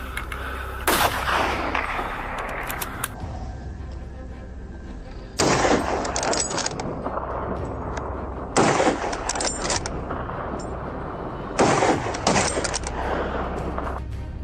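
Gunfire erupts during a wild boar hunt, with four loud, sharp bursts spaced a few seconds apart that ring out over a steady low background rumble.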